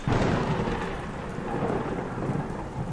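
Steady, dense rainfall with a constant hiss and patter, loud and close, with a low rumble underneath and no voices.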